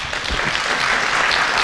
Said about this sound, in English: Let's appreciate the panelists with a round of applause.